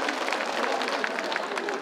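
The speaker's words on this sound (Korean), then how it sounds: "여러분 다시 한번 큰 박수 부탁드리겠습니다" Audience applause at a Korean arts festival performance in Daejeon, a dense, steady wash of clapping held at even loudness throughout, close and continuous with no voices on top.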